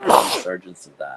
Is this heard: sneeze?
yes